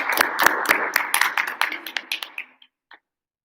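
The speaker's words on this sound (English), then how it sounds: "claps for Edie" A small group clapping for a student speaker at a debate, about a dozen sharp distinct claps in a fairly regular rhythm that thin out and slow before stopping, with a last isolated clap after a short pause.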